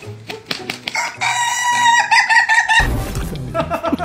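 A rooster crows loudly and close by in one long, drawn-out cock-a-doodle-doo, set among clucking fowl before and after the call.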